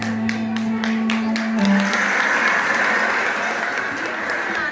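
An audience claps steadily at a school teacher appreciation event, the broad applause holding at an even level under sustained musical tones throughout.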